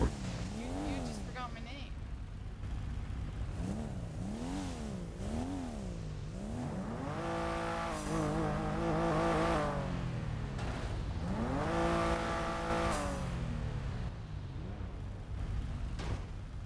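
Race car engines from a racing video game rev and whine continuously, rising and falling in pitch through repeated gear shifts and building to louder surges, with a voice talking over the top.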